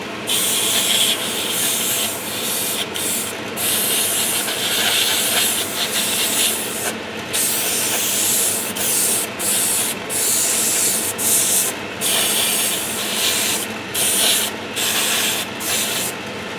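Paint sprayed onto small plastic parts of an Airfix 1/72 scale Avro Vulcan model kit: a steady, close, continuous airbrush hiss with brief pauses and bursts, no talking.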